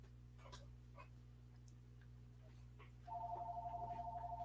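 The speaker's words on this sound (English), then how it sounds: "Sorry about the phone ringing." A telephone starts ringing partway through with a steady, repeating electronic trill over a low background hum, after a stretch of quiet room noise.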